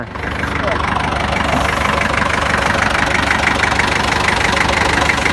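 A Kubota L5018SP tractor engine runs close by at a steady idle, a constant low rumble with a rapid knocking pulse that never lets up.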